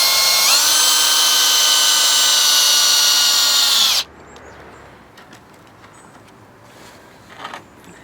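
A power drill drives screws into wooden screen slats, running loud and steady for about four seconds before cutting off abruptly, leaving faint outdoor background with a few light knocks.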